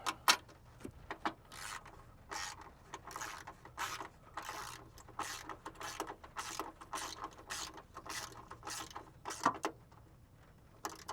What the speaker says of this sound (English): And now with 12 millimeter, we're going to go ahead and tighten this down.